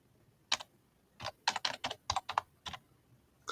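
A computer keyboard clatters as a search query is typed, in a short, uneven run of crisp, close keystrokes, some grouped in quick clusters with brief pauses between them, on a quiet background with no speech.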